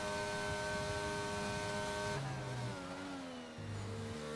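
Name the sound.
Ferrari race car engine in a racing video game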